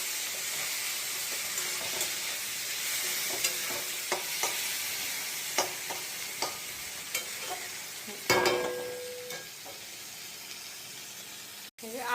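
Tomato, green chilli and curry leaves sizzle steadily in a hot pan, broken by a series of sharp scraping stirs and a louder hiss-burst as the ingredients go in, with no talk.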